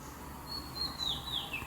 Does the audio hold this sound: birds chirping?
yes